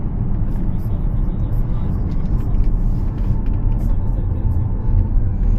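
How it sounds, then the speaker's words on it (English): Road and wind roar inside a moving 2013 Audi S5 Sportback with the sunroof open, a steady loud low rumble with continuous airflow noise throughout. "I'm driving around my neighborhood"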